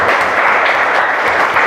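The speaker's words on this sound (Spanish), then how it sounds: "Démosle un aplauso al Señor" A church congregation claps together after a prayer, producing a dense, steady, close burst of applause that carries evenly through the moment.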